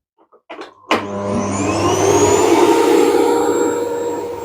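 A few faint clicks, then a vacuum cleaner switches on and spins up into a loud, steady whirring roar with a high motor whine.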